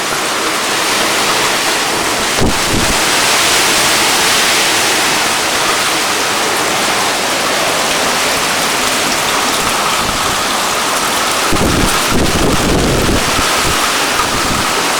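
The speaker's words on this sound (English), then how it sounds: "See the sheets of rain off of the street lamp there, dancing off of the vehicles." Heavy rain roars steadily with gusting hurricane wind buffeting the microphone, a dense, loud wash of storm noise with occasional thumps, rain sheeting off a street lamp and vehicles.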